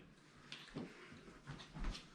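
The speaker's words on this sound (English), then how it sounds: "I should bring the dog in and let him have it." A dog whimpers and yips faintly indoors, giving a few short, soft whines close by in a quiet room.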